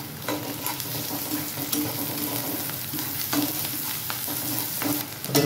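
Ginger and garlic sizzling with lightly browned onions in a pan: a steady crackling fry with frequent scraping and stirring clatter, close and continuous with no talking.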